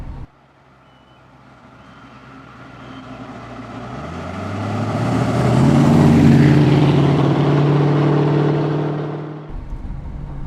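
A DeTomaso Deauville's exhaust note swells and hardens as it accelerates along a bumpy, narrow road, rising to a loud, steady drone before a sudden drop.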